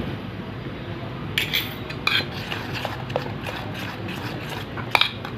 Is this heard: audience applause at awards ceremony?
no